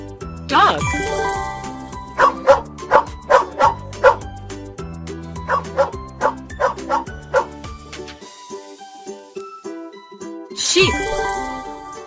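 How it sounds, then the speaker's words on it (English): A dog barks in quick repeated bursts over a rhythmic music bed, two runs of sharp close barks separated by short pauses, with a loud vocal accent at the start and end. "Dog."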